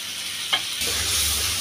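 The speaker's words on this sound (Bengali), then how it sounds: "এটা ভালো করে কষিয়ে নিই আমি মশলাটা" A spice paste with a splash of water is stir-fried in a pan: a single sharp spatula scrape, then a sudden rising sizzle that hisses steadily to the end.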